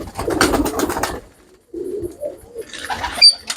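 Teddy pigeons coo in low, rounded phrases, starting with a dense rumbling burst, then a pause and softer separate coos, with faint higher chirps near the end.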